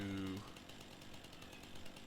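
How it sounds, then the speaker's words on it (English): A chainsaw in the Farming Simulator video game starts up after a brief voice and runs with a fast, steady buzzing rattle at low volume. "So I'm gonna fire up the chainsaw."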